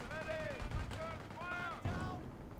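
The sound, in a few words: mortar fire in Company of Heroes video game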